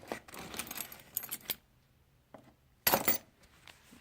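Vintage keys from a flea-market haul jangle and clink in bursts, close and bright, with a quiet pause and then one loud rattle.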